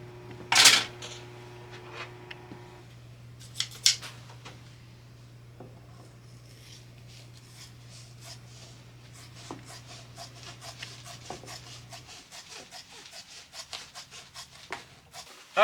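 Scissors cutting paper patterns for a bench seat cushion, close and quiet snipping and crisp rustling in uneven bursts, with a few sharper clicks and a steady low hum beneath for most of the time.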